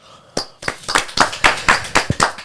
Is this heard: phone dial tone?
no